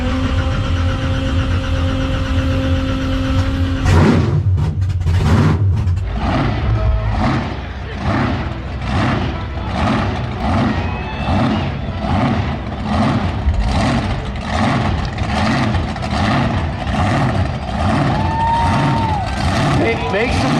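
The Warbird car runs through a heat cycle on a circle track, starting with a steady idle and then breaking into a loud burst. A rhythmic, pulsing engine drone follows under crowd noise and voices.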